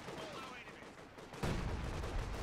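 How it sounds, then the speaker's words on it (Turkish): Artillery and gunfire in the Company of Heroes 2 campaign, a rumbling battle din that bursts into a loud, heavy blast halfway through and keeps booming. "Abi top atışı var."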